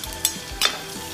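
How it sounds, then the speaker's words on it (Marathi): Crushed chili dropped into hot oil in a wok for a Maharashtrian prawn chili dish gives two short, sharp bursts of sizzling and stirring, close up with a quiet background between them. "आता आपण कढईमध्ये 2 चमचे तेल घेतलेले आहे, त्याच्यामध्ये आपण क्रश केलेली मिरची,"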